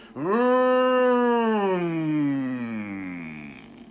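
A man mimics a Ford car engine winding down as the car slows, a close sustained vocal drone that starts high and gradually sinks in pitch and loudness over several seconds.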